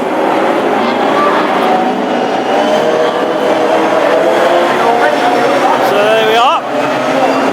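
Classic hot rod race cars circle a cold track on a warm-up lap before a heat at Hednesford, their engines a dense, continuous roar with a rising whine near the end, under a commentator's talk.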